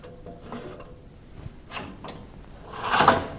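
A metal drawer on a Proto tool chest slides out and is pushed back in, giving soft rolling scrapes followed by a louder sliding clunk near the end.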